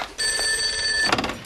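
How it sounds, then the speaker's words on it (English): A telephone bell rings steadily for about a second with bright, sustained tones, followed by a short clatter as the receiver is likely picked up, in a children's television setting. "That could be the phone."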